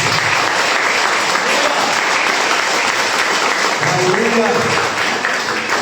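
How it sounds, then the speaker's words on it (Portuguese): A church congregation claps steadily and loudly for several seconds, a dense sustained round of applause with a voice briefly audible beneath it. "Dá um aplauso ao Senhor,"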